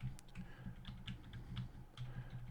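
Someone types a CD key on a computer keyboard, a quiet, close run of quick, evenly spaced key clicks.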